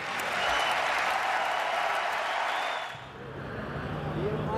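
Large crowd applauding at a Hall of Fame induction for an American football quarterback, loud sustained clapping that dips briefly before swelling again, heard from a distance with talk over it.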